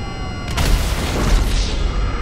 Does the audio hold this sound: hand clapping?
no